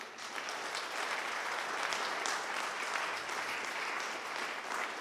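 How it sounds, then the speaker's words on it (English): Steady applause from an audience at a 3D design conference session in Hollywood, a continuous wash of clapping at moderate loudness lasting about five seconds with no speech over it. "Let's have another round of applause."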